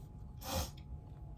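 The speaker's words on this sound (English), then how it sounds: "I'm gonna sneeze." A single sharp, breathy sneeze bursts out close to the mic after face spray is applied while getting ready, brief and loud amid quiet room noise.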